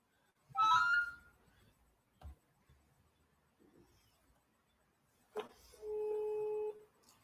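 A telephone call ringing out on a Brazilian social-rights broadcast, with a bright electronic tone burst near the start and a steady two-tone ring later, set apart by quiet gaps and a brief click.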